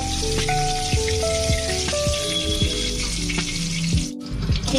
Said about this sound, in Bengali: এবার ডিমটা আমরা উল্টে পাল্টে একটু ভেজে নেব।